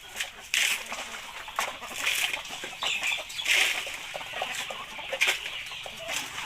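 Chickens cluck and squawk in agitation at a backyard flock's evening feeding, a busy scatter of short calls near and far with no talk over them.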